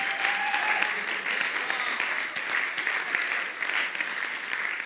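An audience applauds at an Illinois political candidate meeting: a sustained, moderately loud burst of many hands clapping, steady for several seconds in an indoor room.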